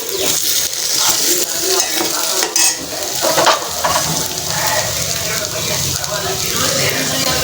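Onions and tomatoes sauté in a pan for a garlic kuzhambu, giving a close, continuous sizzle broken by scraping stirs and light clinks of a utensil against the pan.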